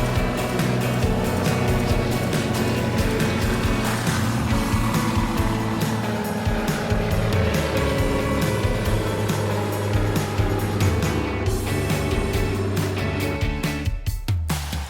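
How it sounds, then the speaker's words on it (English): A float plane takes off in Alaska, its propeller engine roaring loud and steady, growing rougher toward the end, heard near with a continuous dense drone. "I always love watching the float planes take off"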